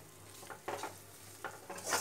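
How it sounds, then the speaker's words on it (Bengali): Raw banana peel paste being stirred in a wok with a little raw mustard oil near the end of cooking, giving soft scraping stirs in a few short bursts over a faint sizzle, close and without talk. "এটা নাড়তে নাড়তে যখন দেখবেন কড়াই থেকে উঠে আসছে তখন বুঝবেন এটা হয়ে গেছে সম্পূর্ণ"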